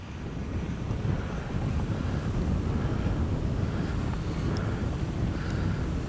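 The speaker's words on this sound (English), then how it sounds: "It's still windy." Steady wind buffeting a microphone outdoors at night while a lit H-King Flybeam 2 trainer-style RC plane flies, a continuous rumbling roar with no voices.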